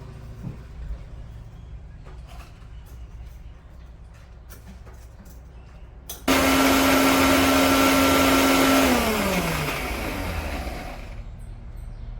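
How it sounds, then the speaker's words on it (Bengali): Kitchen mixer grinder whirs loudly through onion, tomato, dried chillies, ginger and garlic, starting abruptly after quieter room sounds with a strong motor tone, then slowing and dropping off near the end. "তো এগুলো এখন মিক্সিতে ঝটপট বেটে নিই"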